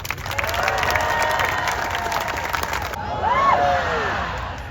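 A large crowd at a pregame ceremony in Bryant-Denny Stadium applauds and cheers loudly and continuously, with whoops and shouts rising toward the end.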